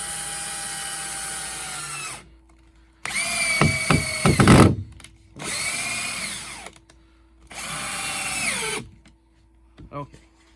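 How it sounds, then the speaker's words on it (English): A power drill drives two screws into wood for a homemade pinball mini-playfield, with loud whining bursts that ramp up and stop, separated by short pauses, close by. "I'm going to put 2 screws in this."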